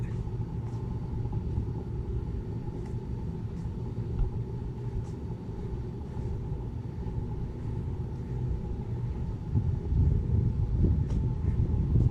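A low, continuous rumble of rolling train cars at the Chattanooga Choo Choo, with faint clanks and rattles, steady and fairly close throughout.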